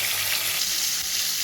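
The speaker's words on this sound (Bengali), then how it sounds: "পটলটা খুব ভালো করে ভাজা হয়ে গেছে।" Pointed gourd (potol) pieces fry in oil with salt, giving a loud, steady sizzle close by. The frying hisses continuously with no voices over it.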